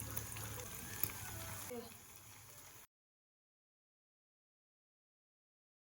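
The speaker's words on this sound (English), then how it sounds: "Fry in hot oil over medium heat." Potato dough fries in hot oil over medium heat, a soft steady sizzle with light bubbling, close but quiet, which stops abruptly partway through and leaves silence.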